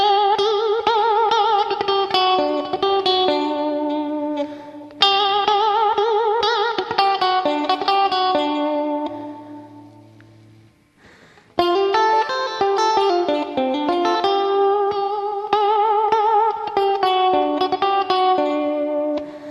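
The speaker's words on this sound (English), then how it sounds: "really wobble the string and you pull it out of its position" Distorted electric guitar notes with pronounced wobbling vibrato from strings pulled out of position, played in phrases with a short pause midway, loud and alone.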